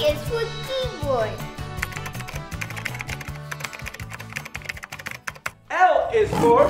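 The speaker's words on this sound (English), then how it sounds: "K is for keyboard." Quick keyboard taps in a children's alphabet setting, short clicks scattered over a bouncy backing tune and music, with a loud burst near the end.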